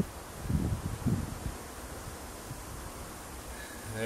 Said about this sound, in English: Boy, it's really windy.